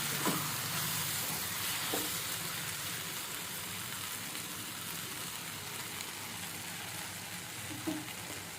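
Okra sizzles and fries steadily in a pan for Telangana-style bhindi, with a few soft stirring scrapes of a spoon breaking through the continuous hiss.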